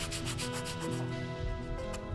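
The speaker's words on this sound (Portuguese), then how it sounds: "vou só igualar com a lixa, bem de leve, só para poder juntar os painéis" Sandpaper lightly rubbing over leather accessory panels to even their edges, a steady close scratchy back-and-forth sanding that continues throughout.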